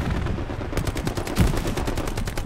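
Rapid automatic gunfire in Hell Let Loose, a loud continuous machine-gun stream of evenly spaced shots close by, with a heavier thump partway through.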